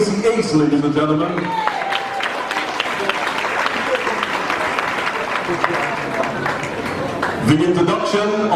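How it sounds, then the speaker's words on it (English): An audience at a People's National Congress Reform party congress applauds a speaker, steady sustained clapping throughout, with a voice over a loudspeaker at the start and again near the end. "Another round of applause for Mr. Gracie Ace, ladies and gentlemen."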